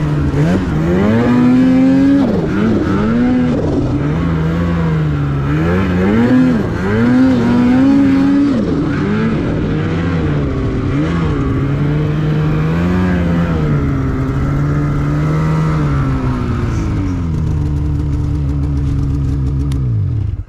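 A Polaris Khaos 850 snowmobile engine revs hard and continuously during wheelies, its loud pitch rising and falling in repeated surges before easing off near the end.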